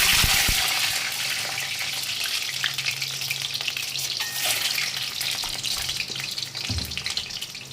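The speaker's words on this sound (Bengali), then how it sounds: "এবার আমি ডিমটা ভেজে নেব, নুন হলুদ দিয়ে" An egg fries in hot oil in a kadai with salt and turmeric, giving a loud, steady crackling sizzle that runs throughout with a few louder spatters near the end. Nobody speaks.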